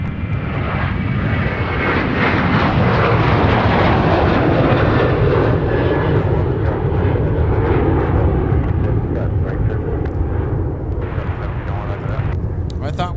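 An airliner landing at Minneapolis–Saint Paul airport without a go-around, a loud, steady jet roar close by that fills the whole stretch and fades slightly near the end, with voices talking over it.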